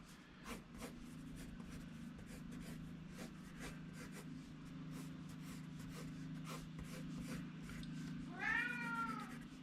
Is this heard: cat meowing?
yes